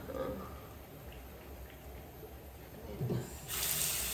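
Tap water running into a bathroom sink while face wash is rinsed off, a soft continuous trickle with small splashes that grows brighter and fuller near the end.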